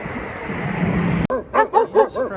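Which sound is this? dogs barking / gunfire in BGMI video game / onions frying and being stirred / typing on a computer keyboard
dogs barking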